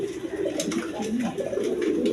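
A pair of Indian Bombay pigeons coo in soft, throaty, repeated phrases, close by and fairly loud, with no voices.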